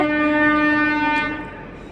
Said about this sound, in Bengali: তো আমাদের এখানে ট্রেন যেতেছে